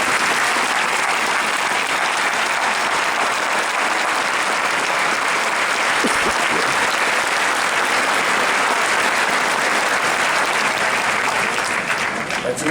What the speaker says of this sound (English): So how about a round of applause for the whole team?